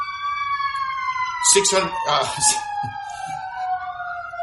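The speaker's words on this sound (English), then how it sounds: "I don't know if you can hear the ambulance." An ambulance siren wails as it passes, its rising and falling tones steady through the whole stretch while someone talks over it.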